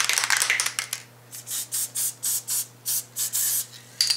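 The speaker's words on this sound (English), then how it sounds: "So, what I'm going to do is we will spray this." Flocking is sprayed onto artificial bushes in about eight short hissing bursts with brief gaps between them, close and fairly loud, after an opening stretch of rougher spraying.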